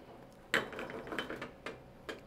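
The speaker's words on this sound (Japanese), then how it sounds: "かき混ぜる。" A spoon stirs risotto in a pan, making quiet, irregular scraping clicks and taps against the metal that come in short bursts, with no voices.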